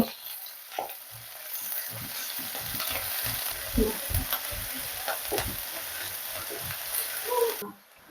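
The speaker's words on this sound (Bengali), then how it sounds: "পেঁয়াজ স্লাইস করে রেখেছিলাম এগুলো দিয়ে দিচ্ছি দিয়ে এটাকে ভেজে নেব" Onion slices hiss and crackle in hot oil under a steady sizzle, with repeated scraping stirs of a spatula against the pan.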